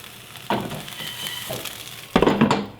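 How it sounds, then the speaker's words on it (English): Vegetables with tomatoes, plantains and bean sprouts in a pan with a drop of olive oil, giving soft sizzling and clattering utensil sounds with a few sharp clinks of a pan or lid, close and brief. "we let it simmer with just a drop of olive oil"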